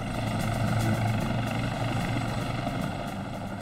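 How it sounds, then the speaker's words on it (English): Rescue helicopter rotors thump steadily with a loud, droning engine whine as they arrive, close and constant for the whole stretch. "As the next wave of helicopters arrived"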